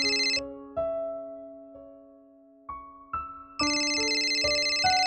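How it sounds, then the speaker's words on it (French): A telephone rings in short electronic bursts, a repeating melodic ringtone pattern with gaps between rings, clear and fairly close with no voices over it. "Tu entends alors le téléphone sonner."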